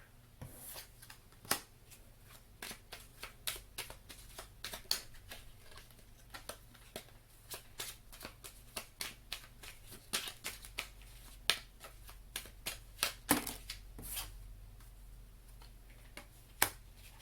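Tarot cards being shuffled and drawn at a reading table, close and quiet, with a steady series of crisp individual snaps and flicks, some louder than others, over a low background hum.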